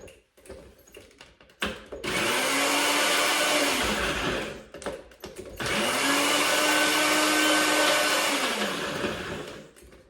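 A kitchen blender whirs through cilantro, garlic and olive oil for salsa in two loud, steady runs of several seconds each, separated by a short pause, with lid clatter before and between them.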